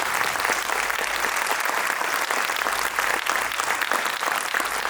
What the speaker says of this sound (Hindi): बहुत अच्छी तालियों से इनको धन्यवाद।